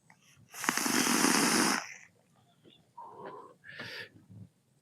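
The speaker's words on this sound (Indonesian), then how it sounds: "Saya tarik napas dulu." A person takes a deep, loud breath, a long harsh inhale, then a couple of shorter breathy exhales and snorts close to the microphone.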